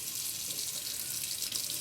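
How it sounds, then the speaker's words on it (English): Tap water runs steadily into a kitchen sink while roasted Hatch chiles are scraped and peeled under it, a constant close hiss of flowing water with no voices. "turn your water on, and you're just going to start scraping"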